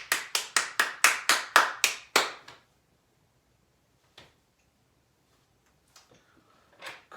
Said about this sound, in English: Big round of applause for Estefania.